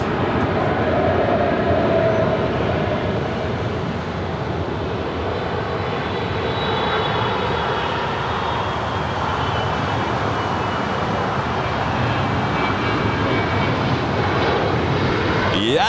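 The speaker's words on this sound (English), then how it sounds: "we just have a 777 just touching down here on 25 left" A Boeing 777 touching down on runway 25 left at LAX, a continuous loud broadband rumble of jet engines and rolling noise that holds steady throughout, with no speech.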